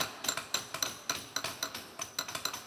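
Hammer striking copper sheet held against a tool during onigawara-style sheet metalwork, a steady run of sharp metallic taps about five per second, bright and ringing, close and alone.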